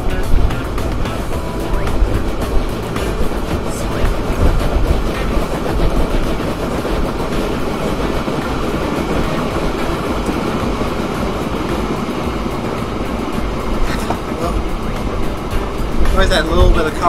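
A train runs in the railway simulation game Train Fever, a continuous rolling rumble with rhythmic clicking wheels that holds steady for the whole stretch, swelling slightly near the end.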